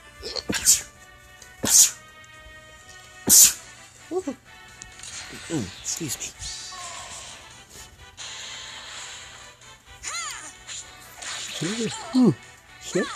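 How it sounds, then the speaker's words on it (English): A person sneezes in short, sharp bursts near the start while playing a video game, with a voice talking and game sound effects following. "I sneezed."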